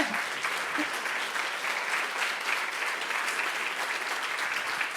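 Sustained audience applause at a formal award ceremony for the My Doctor 2022 campaign, an even, dense wash of many hands clapping at steady loudness for the whole stretch.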